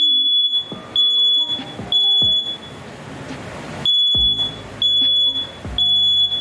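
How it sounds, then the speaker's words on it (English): A smoke alarm beeps in repeated high-pitched bursts, loud and close, set off while cooking curry, with clattering kitchen sounds in the gaps between beeps. "our fire alarm goes off for absolutely no reason."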